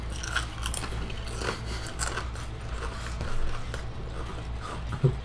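Crunchy biting and chewing of tempura-style potato chips, close to the mouth, with irregular crisp crunches over a low background hum.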